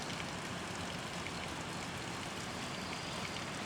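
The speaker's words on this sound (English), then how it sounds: "a waterfall." A waterfall near a house by the water gives a steady, even hiss of rushing water, faint and distant, with no breaks or other sounds.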